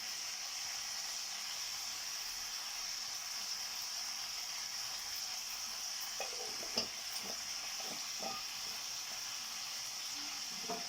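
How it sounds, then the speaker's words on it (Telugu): A spoon stirs chili powder into pumpkin curry in a pan, a soft continuous sizzle with a few faint scraping strokes near the end, quiet and without talk. "కారం వేసి ఒక్కసారి కలుపుకుందామండి"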